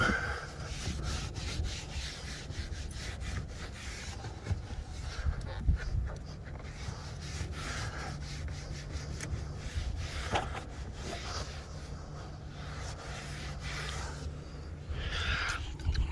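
Steady rubbing and wiping while cleaning the window switch cover trim on a 2008-2013 Honda Fit (Jazz) car door, a continuous scrubbing texture with small knocks, close and moderately loud, with no talking.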